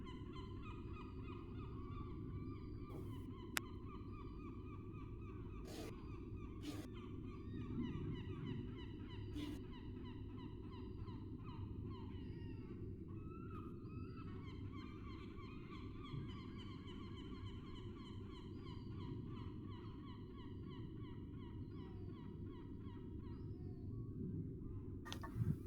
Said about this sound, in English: should we still have been hearing the gulls of the wind?